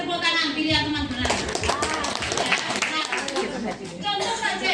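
A group of people applauds indoors in a dense, continuous patter of clapping that holds steady for several seconds, with voices chattering underneath.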